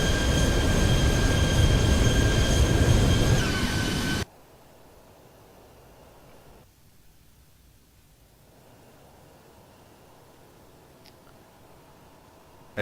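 Boeing 737 (Zibo) thrust reversers roaring in a flight simulator during a snowy landing, a loud broad rushing roar with a high whine that cuts off abruptly after about four seconds, leaving a low quiet hiss.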